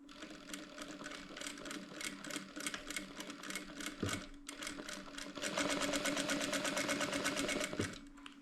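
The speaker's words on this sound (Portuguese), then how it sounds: "Faço essa costura sem pressa." A sewing machine stitches fabric in a steady, rapid run of needle strokes. It pauses briefly partway through, then runs louder and faster. The sound is close and there is no speech.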